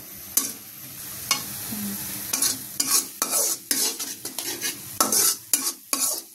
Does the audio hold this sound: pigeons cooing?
no